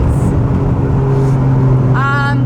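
A 1994 Toyota Chaser engine drones steadily from inside the car while driving, its low, loud hum rising briefly toward the end. A voice is heard over it.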